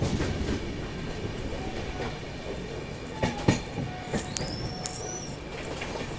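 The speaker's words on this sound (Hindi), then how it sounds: "और ये ट्रैक साउंड यार," The Ahmedabad–Gorakhpur Express rolls along the tracks with a continuous rumble and a rhythmic clickety-clack, with a few louder wheel knocks and a thin metallic squeal near the end.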